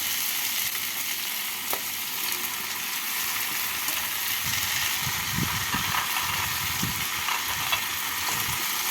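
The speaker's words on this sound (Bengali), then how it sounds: "দু মিনিট পর ঢাকা খুলে এর মধ্যে দিয়ে দেবো ভেজে রাখা আলু কুমড়ো আর ডালের বড়ি" Fried potato, pumpkin and lentil nuggets go into a hot pan for a mixed-vegetable poppy seed dish, raising a steady, close sizzle of frying with occasional utensil clunks and scrapes throughout.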